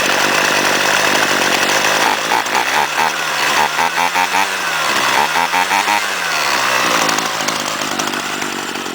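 A gas string trimmer engine idles rough and sputtering, then revs up into a loud, buzzing two-stroke whine that pulses and surges up close, faint voice occasionally underneath.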